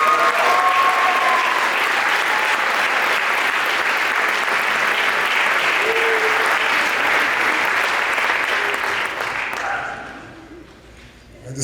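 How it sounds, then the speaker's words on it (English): A crowd applauds an award recipient at a school winter and spring sports awards ceremony. The clapping is loud, steady and sustained for about ten seconds, then fades quickly near the end. "Round of applause for Caleb Jameson."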